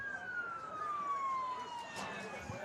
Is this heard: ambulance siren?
yes